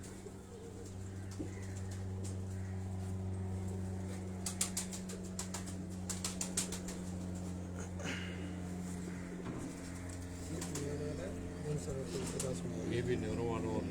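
Pigeons kept at a breeder's house in Karachi coo in low repeated throaty phrases, steady and close, while people talk nearby and occasional clicks and rustles break through.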